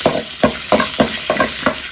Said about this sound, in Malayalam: ഒന്ന് നെയ്യിൽ ഫ്രൈ ചെയ്തെടുക്കാം.